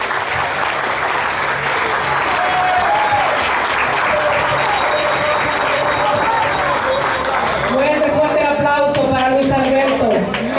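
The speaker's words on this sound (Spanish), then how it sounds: "Fuerte el aplauso" Sustained loud applause from a crowd at a Santo Domingo Este carnival gathering, steady clapping filling the whole stretch, with some voices and cheering rising near the end.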